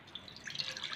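Milk poured into a pan for making tea, giving soft liquid trickling and splashing sounds that run for about a second, close and fairly quiet, with no one speaking.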